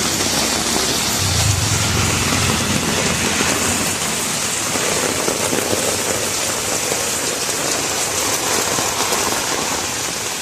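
Heavy monsoon rain pours down outdoors, a loud, dense and constant hiss of drops on surfaces that holds steady for the whole stretch with no voices.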